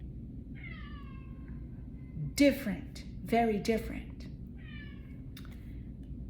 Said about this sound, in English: y'all probably hear my cat in the background now